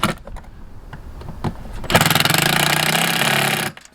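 A power tool drives screws during an RV slideout repair: a few taps and clicks, then a loud continuous whirring burst lasting almost two seconds that stops abruptly, heard up close.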